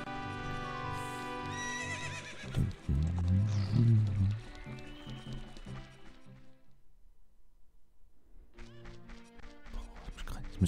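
A horse whinnies in The Legend of Zelda: Ocarina of Time, sounding over tuneful game music along with a thudding crash, before the music fades to near quiet and then returns.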